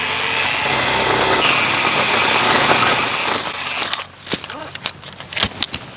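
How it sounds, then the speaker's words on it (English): A Ryobi electric pole saw whines steadily and loudly while cutting for about four seconds, then cuts off, leaving scattered clicks and small knocks. "Starting with the Ryobi, I've been reasonably well impressed with not only the performance but the flexibility of this little saw."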